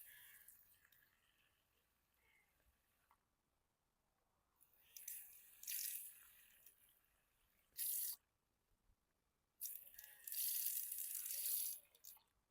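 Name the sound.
water poured into planting hole for leeks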